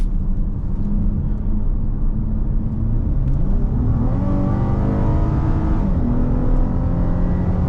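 A 2010 Acura ZDX's Honda J-Series V6 engine revs up loudly nearby, its pitch climbing steadily with a rough rumble, then easing slightly before rising again.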